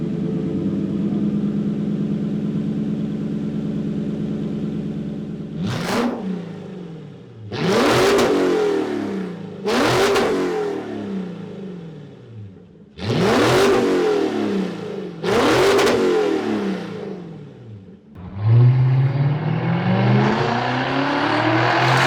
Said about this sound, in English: So a little bit more V8 sound through the stock exhaust.